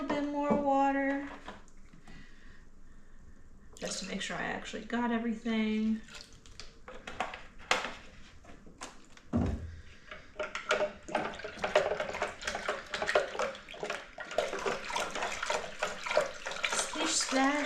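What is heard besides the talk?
water poured into honey must for blackberry mead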